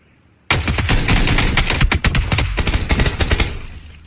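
Rapid automatic gunfire erupts in a shooting video game, a dense, loud burst of overlapping shots that starts abruptly, rattles on for about three seconds and then tails off into a fading echo.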